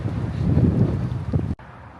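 Outdoor wind in Estes Park, Colorado buffets the microphone in a low, fluctuating roar that drops away suddenly near the end, leaving a quieter rush.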